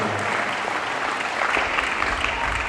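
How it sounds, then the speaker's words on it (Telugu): A hall audience claps in thanks at the closing ceremony of the diocesan inquiry for Brother Joseph Thamby's cause, a dense, continuous applause that holds steady at one level throughout. "పేరు పేరున గట్టిగా చప్పట్లతో ధన్యవాదాలు తెలియజేసుకుందాం"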